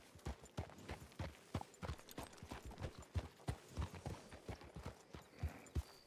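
Horse hooves clip-clop in a steady, trotting rhythm in a roleplay video game, fairly close and clear, with no talking.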